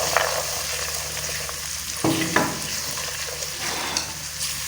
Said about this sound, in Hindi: तो मटर को भी साथ भून लेते हैं।